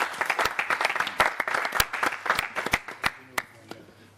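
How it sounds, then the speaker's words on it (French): An audience at a Gabonese television comedy show gives a short, lively burst of clapping that thins out into a few scattered claps. "Je voudrais qu'on applaudisse très fort pour le sujet."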